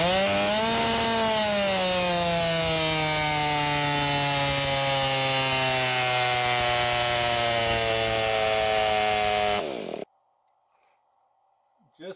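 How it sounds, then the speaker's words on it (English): A Stihl 500i fuel-injected big-bore 85cc chainsaw fitted with a stock-style muffler runs loud and steady near the microphone for about ten seconds, then cuts off abruptly into near silence. "But saw still runs good, acts perfectly normal with that style muffler."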